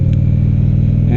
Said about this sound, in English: I think what we're listening to as far as our stock pipes